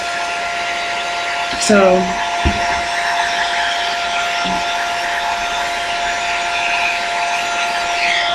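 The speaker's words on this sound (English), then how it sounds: "I'm just gonna hold the hair dryer to my face. I got it on the lowest heat" A hair dryer runs on its lowest heat setting, held close to the face, giving a steady whirring blow with a constant tonal whine throughout; a voice briefly speaks near the start.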